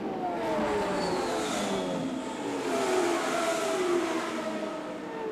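1987 IndyCar race cars circle the Milwaukee oval, engines whining in rising and falling sweeps as several cars pass at a distance, a continuous roar with no voices.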